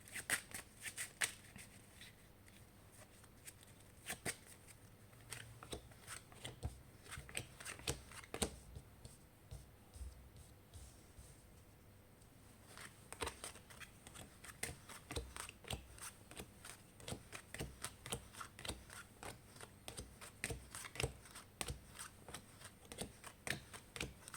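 A deck of tarot cards being shuffled and split, with dense, crisp riffling and flicking bursts close up, brief pauses between passes, and no voices.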